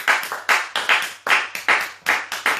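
A church congregation claps during worship and praise, a close, loud group clapping in uneven bursts with sharp onsets that recur roughly twice a second, with no voices over it.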